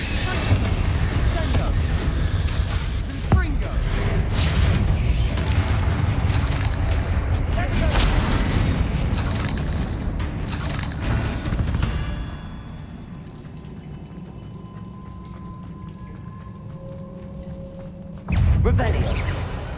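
Confringo and Bombarda spells going off in Hogwarts Legacy, a dense stretch of loud booming blasts and rumble that fades, then a final sharp burst near the end.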